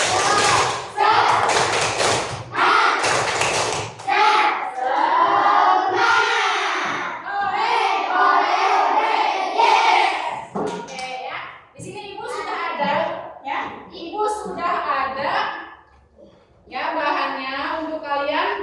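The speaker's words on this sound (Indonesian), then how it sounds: "Yuk kita tetap semangat dulu yuk. Tepuk semangat." Children in a classroom perform the rhythmic 'tepuk semangat' clapping chant, loud voices mixed with bursts of hand claps and thumps in a patterned beat.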